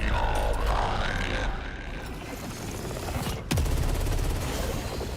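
Gunfire in the PS5 game Saros: dense, continuous bursts of shots with a heavy low rumble, a sharp louder blast near the end, loud and close throughout.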